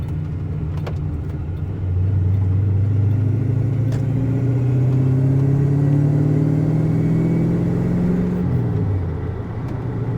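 A car engine with its exhaust fallen off drones loudly and close, its pitch climbing as the revs build around two seconds, holding, then dropping away near the end.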